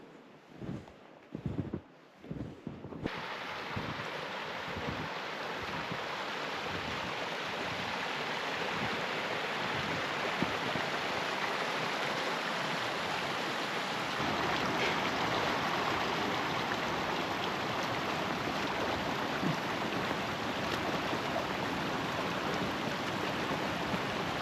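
Creek water runs steadily at the Mosquito Creek trail crossing in Algonquin Park during snowfall, a constant close rushing flow after a few brief knocks at the start.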